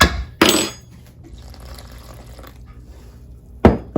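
Water poured into a bowl of roti dough mix of flour, baking powder and salt, a soft steady trickle between two sharp knocks at the start and end.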